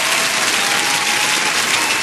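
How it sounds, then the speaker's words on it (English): Dense, steady applause from an audience at a live talk-show taping, filling the whole stretch loudly and evenly with no talk over it. "put an applause, put your hands together"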